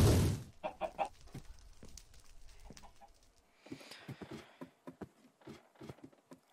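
Chickens in the Minecraft video game cluck in short, scattered bursts, fairly faint, with a brief loud thump at the start and soft hoof-like clopping in between.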